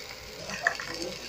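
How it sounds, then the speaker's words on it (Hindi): Tomatoes fry and sizzle in a pan of aloo parwal sabji made without onion or garlic, a faint steady hiss with a light stir or tap near the end. "सब्जी में अच्छी तरह से भूनेंगे।"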